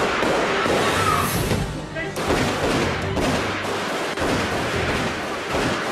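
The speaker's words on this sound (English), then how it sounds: "Bullets tear through the room." Rapid bursts of gunfire tear through a room in a staged police reenactment, with loud repeated shots and thuds layered under dense, continuous noise and voices throughout.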